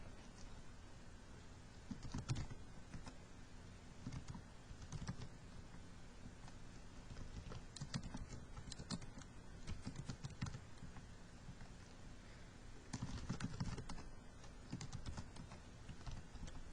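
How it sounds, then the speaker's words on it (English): Fingers tap a phone number into a Microsoft Access table on a computer keyboard, with quiet irregular key clicks in short bursts spread across a soft background hum. "when I type in the phone number"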